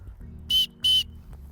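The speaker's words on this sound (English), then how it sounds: "on the chest strap here, there's actually a whistle built in" A shrill whistle built into the chest strap of an Osprey Atmos 65 AG backpack sounds twice in quick succession, short sharp blasts close up over low background hum.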